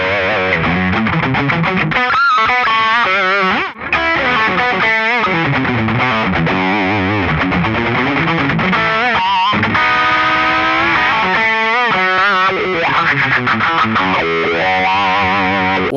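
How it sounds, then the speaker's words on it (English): Distorted electric guitar with effects plays fast palm-muted scale runs in a rock approach, with tight chugging notes and busy melodic lines. The guitar is loud and continuous for the whole passage. "sometimes you want to add the palm mute to really tighten it up"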